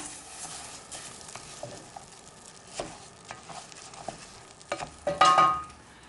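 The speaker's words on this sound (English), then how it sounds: "And just toss into the butter. Stir through just till it gets coated lightly and is glossy." Basmati rice stirred through melted butter in a pan, giving a soft scraping, patting stir with a faint sizzle beneath, quiet and close, with a few sharper clinks and a louder burst of stirring near the end.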